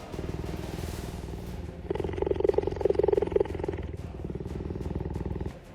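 A cheetah's low, rumbling growl rolls on steadily for several seconds, close and moderately loud, swelling slightly in the middle.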